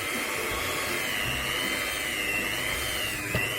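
Electric stand or hand mixer kneading soft bomboloni doughnut dough enriched with margarine and salt, a steady close motor whine with a constant grinding drone and no pauses.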